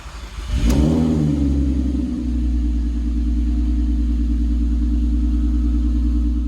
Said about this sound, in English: lower the car down and try and start it and just make sure everything starts